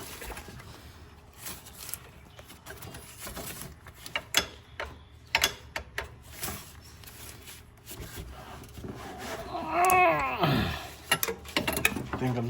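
A ratchet wrench works on a bolt of a 2007 Toyota Yaris alternator, giving scattered clicks and short ratcheting bursts with metallic rubbing, plus a brief squeaky scrape near the end, fairly close.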